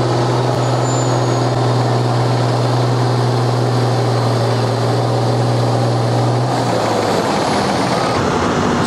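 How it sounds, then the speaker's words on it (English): A John Deere 6715 tractor pulls at a county fair tractor pull, its engine holding a loud, steady, close roar that eases off near the end. "John Deere 6715."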